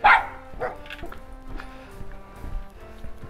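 Several dogs bark in short, separate bursts along a quiet English residential street on a walk toward a school; the barks are moderately distant over a steady low background hum.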